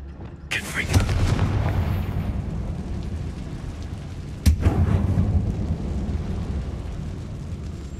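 A Confringo blasting spell in Hogwarts Legacy, cast inside an abandoned mine, erupts in a loud booming blast, then a second explosion a few seconds later, each trailing off in a long rumbling roar.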